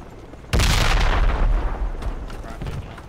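A grenade explodes in the military shooter Project Reality with a sudden loud blast that rumbles and decays over a couple of seconds, followed by fainter distant bangs.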